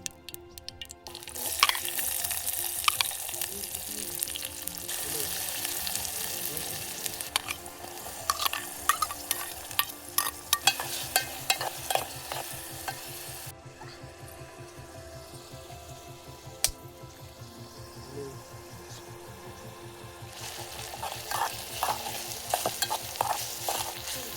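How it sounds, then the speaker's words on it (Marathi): Tomato and onion fry in oil in a pot over an outdoor wood-fired stove on a hilltop, a bright sizzle broken by repeated scrapes and clinks of stirring, quieter in the middle before the hiss swells again. "तर आधी मी तेल टाकून घेते टोमॅटो कांदा हे करून घेते"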